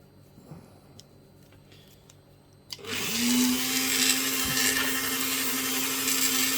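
A Dremel rotary tool cutting rough opal picture stone: after a few quiet handling clicks, the motor spins up into a loud, steady high whine with a gritty grinding edge that continues close by without talk.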